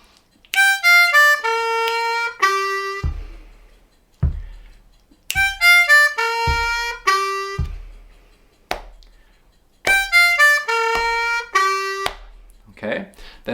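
A harmonica in C plays a short descending phrase, ending on a 3 draw half-step bend, repeated three times with brief pauses between, close and clear.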